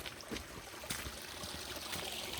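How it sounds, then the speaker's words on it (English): Creek water running below a forest walking track in a sanctuary park in Buderim, Queensland, a soft continuous trickle and gurgle heard from a little distance, fairly faint, with no speech. "Just crossing a creek here, you can hear the water running down there."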